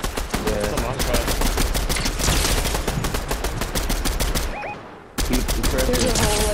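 Video game gunfire rattles in rapid, sharp bursts, nearly continuous automatic shots, close and loud, with a brief near-silent gap before the firing resumes and a voice faintly underneath.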